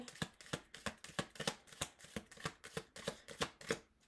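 Tarot cards shuffled by hand in a steady run of about fourteen crisp riffling slaps, roughly three per second, close and fairly quiet with no talking.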